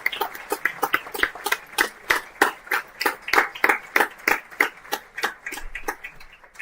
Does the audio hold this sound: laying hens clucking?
no